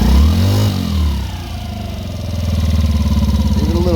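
A 2016 Yamaha Raptor 90 ATV engine revs up and settles after carburetor cleaning and adjustment, then holds a steady, loud, close putter with a rhythmic pulse.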